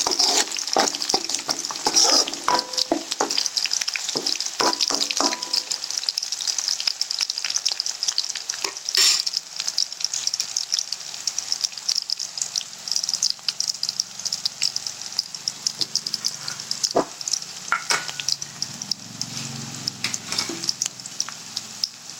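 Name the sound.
onions frying and being stirred with ginger garlic paste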